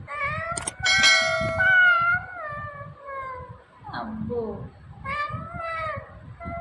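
A young boy imitates a cat with long, wavering meows, then shorter mewing cries. An adult speaks between the imitations, and the sounds are close and fairly loud.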